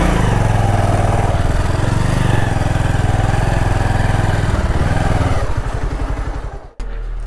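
A motorcycle engine idles close by with a steady, throbbing putter while the bike is parked outside a monastery, then the rhythm loosens and it cuts off abruptly near the end.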